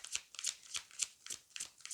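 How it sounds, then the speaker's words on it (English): A tarot card deck being shuffled by hand in quick riffling chunks, a rapid series of close, crisp papery bursts about every quarter second. "once you break it in, you can just shuffle it like any other deck"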